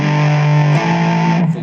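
An electric guitar played through a Line 6 Floor Pod Plus on its Insane distortion setting sustains one thick, saturated chord. It rings loud and alone before cutting off abruptly.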